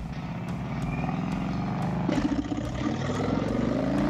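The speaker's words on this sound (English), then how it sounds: "Oh, that exhaust sounds good." A Harley Dyna motorcycle's exhaust rumbles steadily while riding, a close, continuous low throb that swells slightly midway, with no talking.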